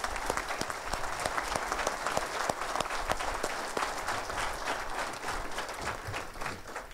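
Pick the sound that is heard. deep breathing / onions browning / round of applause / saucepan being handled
round of applause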